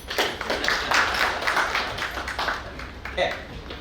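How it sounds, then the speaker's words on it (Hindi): Audience clapping in a marketing management lecture hall, scattered and uneven hand claps running steadily through the moment under a busy, reverberant room. "अब तो ताली बजा दीजिए कम से"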